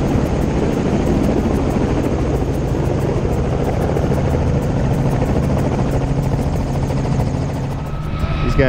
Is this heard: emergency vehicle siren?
no